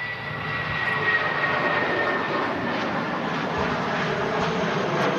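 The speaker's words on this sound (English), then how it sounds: "There you go, British Airways A320 heading back to London." A British Airways Airbus A320 jet passes at Manchester Airport, a broad steady engine roar held at moderate distance with no talking over it.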